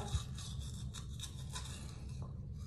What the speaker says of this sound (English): next you are gonna hear me brush my teeth and choke on toothpaste